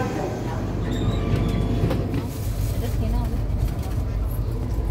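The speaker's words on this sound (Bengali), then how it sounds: "এই আমাদের ট্রেন। কলকাতা নাঙ্গলগ্রাম।" A Kolkata–Nangalgram express train standing at a station, its steady, close rumble and rail noise filling the scene with people talking in the background throughout.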